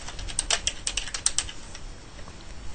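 Fingers typing on a computer keyboard, a quick burst of close plastic key clicks that thins out into a few scattered taps, with no speech.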